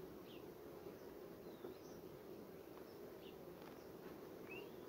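Honeybees buzz faintly and steadily around a hive during a sunflower honey flow, a soft continuous drone with occasional individual bees passing close.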